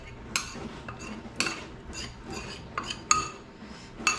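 A spoon clinks against a pot as condensed milk is stirred into sago porridge: scattered light metallic taps and scrapes at an irregular pace, close and fairly quiet.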